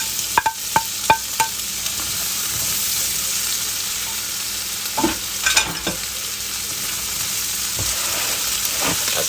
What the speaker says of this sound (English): I put some more butter in it, like a tablespoon, so now I'm going to add the chopped up onion